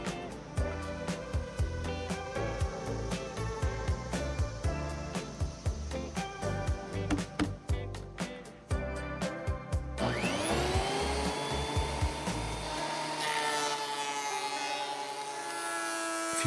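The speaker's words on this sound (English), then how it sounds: "It raises everything just enough for the planer to do its job." A thickness planer feeds thin boards mounted with double-sided tape on a scrap board, a loud continuous motor whine with rapid rhythmic cutting chatter, then a smoother high run-down as the pass finishes.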